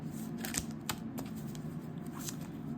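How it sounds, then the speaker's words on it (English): Tarot cards shuffled by hand at close range, a run of soft riffling, flicking and tapping noises with a few sharper card snaps, no one talking. "Alright, so I'll shuffle."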